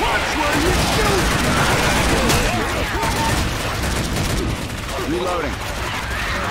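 Dense, continuous automatic gunfire from the zombie shooter Left 4 Dead 2, loud and sustained bursts overlapping throughout, with voices shouting over the shooting.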